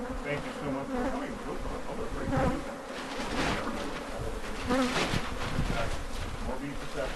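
Bees buzzing steadily and densely inside a horse stall, a continuous close drone with swells in intensity throughout.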